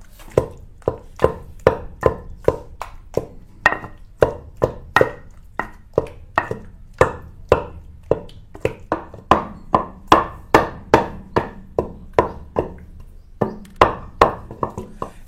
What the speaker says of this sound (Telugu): ఇప్పుడు కొద్దిగా వాటర్ ఉన్నాయి కాబట్టి మనమైతే కొంచెం మెత్తగా అయితే నూరుకోవాలన్నమాట